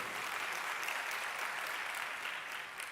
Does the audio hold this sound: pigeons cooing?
no